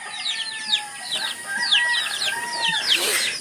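Several chickens cluck and squawk close by in a busy overlapping chorus, with chirpy calls rising and falling over a quiet background.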